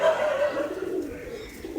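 Magnet pigeons cooing close by, a soft low throaty warble rolling on continuously for under two seconds.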